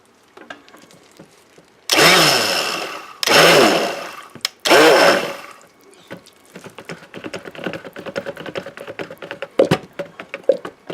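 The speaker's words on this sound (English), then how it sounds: "now I'm going to get ready to blend" A blender whirs loudly in three short pulses through a soap dough mixture, each burst rising and cutting off, followed by softer scraping and clicking sounds.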